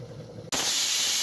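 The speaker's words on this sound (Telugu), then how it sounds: "1 విజిల్ వచ్చింది" A pressure cooker holding bottle gourd curry with gongura leaves lets off steam. Quiet kitchen background gives way halfway through to a sudden loud, steady hiss that continues to the end.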